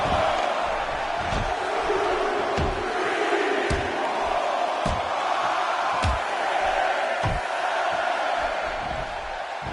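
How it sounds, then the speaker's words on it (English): A virtual arena crowd in WWE 2K17 wrestling game murmurs and roars continuously, a steady loud wash of voices with periodic sharp thuds punctuating it at regular intervals. "The crowd is buzzing."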